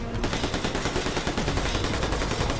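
Dense continuous automatic gunfire in the game New Tales from the Borderlands, a loud rapid rattle of overlapping shots filling the whole stretch without pause.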